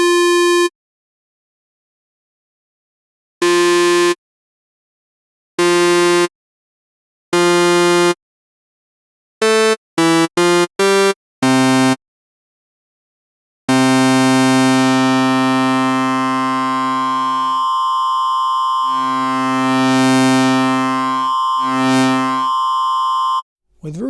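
An Oberon synthesizer plays a square wave shaped with repeat and phase distortion, heard first as separate buzzy tones of varying length and then as a long sustained, bright, shifting tone.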